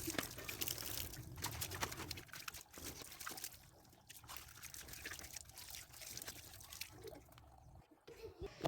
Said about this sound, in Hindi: अब हम इनको पानी से धो देंगे।